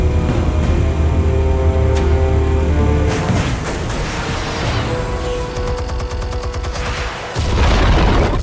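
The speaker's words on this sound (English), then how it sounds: "Explosives armed. Fire when ready." Explosives going off in the Batman: The Telltale Series video game, a loud rumbling blast that lasts throughout and is layered over a low music bed, with no talk.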